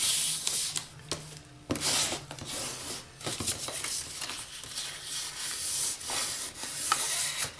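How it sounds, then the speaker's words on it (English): Folding and burnishing a paper gift box: repeated dry rubbing and scraping strokes of paper being creased and pressed, close and moderately quiet, with no talking. "Let's fold and burnish."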